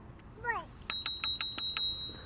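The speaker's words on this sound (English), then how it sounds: "Even got a little bell for safety." Small bell on a Hoverfly X1 ride-on rung six times in quick, even succession, bright and close, just after a brief high vocal sound.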